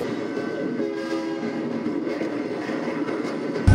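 A train rumbles steadily along the rails, a continuous loud roar with faint rattling, ending in a sudden sharp clank.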